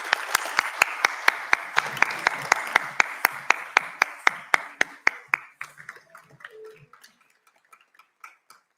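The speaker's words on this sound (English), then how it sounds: "can we give Rebecca a massive round of applause as well?" Applause from an awards ceremony audience at the Next Gen National Awards 2024, starting as a full round of clapping with sharp individual claps, then thinning and fading into a few scattered claps.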